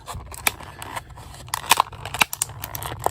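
A small knife cuts out a tab, giving a run of quick, crisp snipping and crackling clicks at close range, irregular in rhythm, with no voices.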